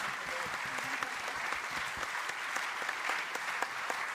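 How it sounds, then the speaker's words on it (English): An audience at a climate change panel event applauds the panelists, a dense, even wash of clapping with a few louder individual claps, fairly close and steady throughout. "Please give a round of applause to the wonderful panelists."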